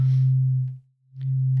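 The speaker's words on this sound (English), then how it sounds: "if I had a pure sine wave here" A Hydrasynth synthesizer plays a pure sine wave as a steady low tone. It fades out briefly in the middle, then returns at full strength.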